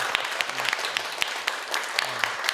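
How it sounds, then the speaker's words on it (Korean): Applause for the mayor during an elementary school students' visit, a small group clapping steadily for a few seconds, moderately close, with a faint voice or two underneath. "감사의 뜻으로 다 같이 시장님께 큰 박수 부탁드리겠습니다"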